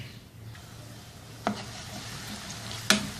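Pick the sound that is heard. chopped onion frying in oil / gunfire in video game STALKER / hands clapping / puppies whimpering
chopped onion frying in oil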